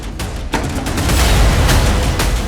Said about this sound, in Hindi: हेमंत, तोड़ो दरवाजा